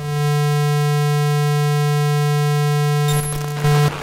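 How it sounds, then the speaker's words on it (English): A loud, steady, buzzy square-wave tone from the Atari ST's YM2149 sound chip holds for about three seconds, then breaks into a short burst of noisy chatter. "The Atari ST sound chip, the YM2149, was only conceived to generate a square wave sound over three channels."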